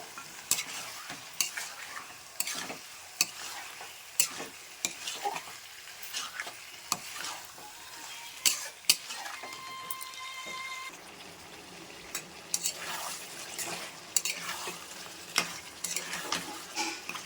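Spices and mutton sautéing in a pan as a spoon stirs and scrapes, with faint sizzling under irregular clinks and knocks of the utensil against the pan, close and fairly quiet throughout.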